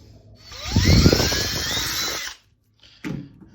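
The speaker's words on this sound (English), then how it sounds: "I think I marked where I should drill" A power drill whirs up and runs steadily for about two seconds, close by, then stops, followed by a brief clunk, while attaching a V-hook to a proton pack prop.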